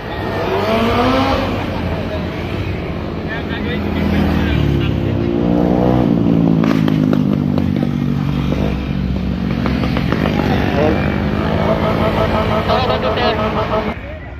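Motorcycles ride past one after another along the Marilaque mountain road on a Sunday, loud and close, engines rising and falling as they pass, with roadside talk mixed in.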